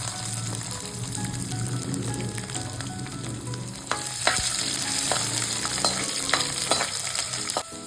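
Peanuts and finely chopped garlic fry in hot oil in a pan, a steady close sizzle with stirring scrapes throughout, getting louder and busier toward the end, no talking.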